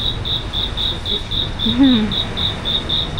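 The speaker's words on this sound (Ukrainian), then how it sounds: "Ось вмикнули цвіркуна." A toy cricket gives a steady, high chirp that pulses in a regular rhythm, close and loud, with a brief low murmur partway through.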